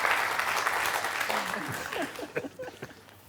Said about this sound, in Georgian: აპლოდისმენტები, მეგობრებო